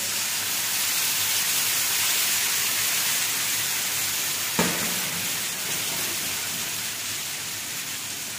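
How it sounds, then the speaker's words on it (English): Steady hissing sizzle of a hot pan as red wine goes in for chicken chasseur, one small clink midway, the frying noise continuing evenly without talk. "So now I'm going to add a red wine."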